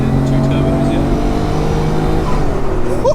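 A 2000s twin-turbo performance car pulls hard in third gear, engine note steadily rising in pitch as revs build, loud and close, with people talking over it inside the cabin.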